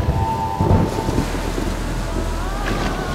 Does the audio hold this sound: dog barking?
no